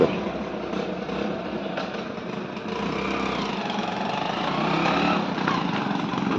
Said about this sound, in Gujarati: બાઇક ચાલુ કરે છે